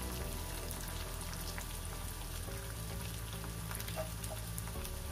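Dried red chillies, ginger and vallarai keerai leaves fry over a medium flame in a pan, a soft continuous crackle and sizzle at low volume with no voices.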